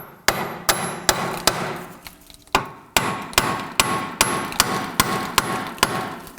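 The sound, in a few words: hammer striking Subaru Legacy rear wheel hub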